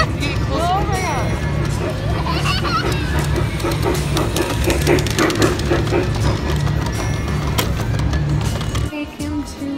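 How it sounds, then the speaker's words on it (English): A train rumbles past in Seattle with a steady, heavy roar and faint squeals, while a crowd chatters around it; the noise cuts off abruptly near the end. "Here comes the train."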